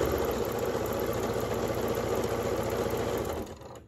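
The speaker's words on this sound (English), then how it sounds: "I am just sewing my 1/4 inch on all those" A sewing machine chain-pieces quilt block fabric with quarter-inch seams, a steady mechanical whir running continuously at moderate level before stopping near the end.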